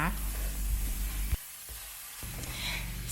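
Steady sizzling from a hot pan as shrimp and squid are stir-fried, with broadband frying hiss and a brief quieter dip midway, as the food is tossed and stirred.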